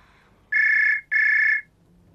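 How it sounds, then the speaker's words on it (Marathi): A telephone rings twice, two steady electronic bursts with a short gap between them, clear and close against a quiet background. "घे फोन. तुझाच आहे, शैलू अंकलचा नाहीये, सुधाईचा आहे."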